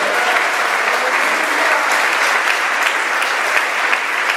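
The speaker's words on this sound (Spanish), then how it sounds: "Denle un aplauso a Dios en esta mañana." Steady, dense applause from a church congregation during a Sunday morning service, loud and continuous for the whole stretch with no break.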